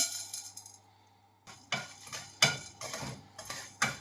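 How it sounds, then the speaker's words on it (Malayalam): Black peppercorns dry-roast in a pan over a low flame for rasam powder. After a quiet start, bursts of crisp rattling and scraping come from stirring, each burst close and distinct. "ഞാനിപ്പോൾ തീ കുറച്ച് വെച്ചിട്ടാണ് വറുക്കുന്നത്"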